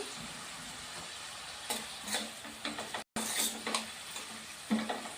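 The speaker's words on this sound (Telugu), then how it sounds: "ఉల్లిపాయలు ఫ్రై కాబట్టి ఇంతలాగా వేయించుకోవాలి" Onions sizzle and fry in a pan for a dried prawn fry, broadband crackling with several stirring scrapes and a brief dropout midway, steady and close with no talk.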